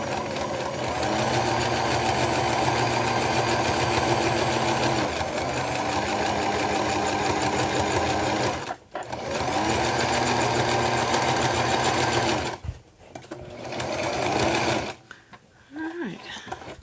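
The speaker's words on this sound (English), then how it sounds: "I guess most of this video is just going to look like just me sewing." A sewing machine stitches close by in long, continuous runs of rapid mechanical chatter, stopping briefly twice before a final pause.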